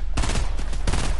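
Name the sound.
gunfire during a Fortnite in-game event, in a video game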